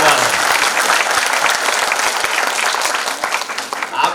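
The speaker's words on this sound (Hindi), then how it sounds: "तीसरी तालियां आप उन शिक्षकों के लिए बजाएं" An audience at a children's school event applauds the teachers, a loud, dense crowd clapping that holds steady for about four seconds and thins slightly toward the end.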